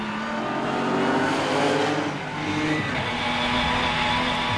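A BMW M3 GTR race car with a 4-litre V8 competing in a Supercar Challenge round at the Nürburgring roars loudly and steadily, the engine note dipping briefly before surging again, with other racing engines in the mix.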